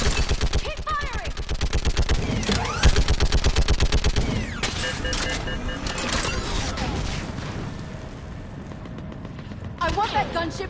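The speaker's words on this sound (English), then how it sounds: "Enemy targets on the bridge! Keep firing!" Dense automatic and rapid gunfire in a Mass Effect 3 battle, loud and continuous with sharp bursts, ricochets and clatter, while voices shout orders over the shooting.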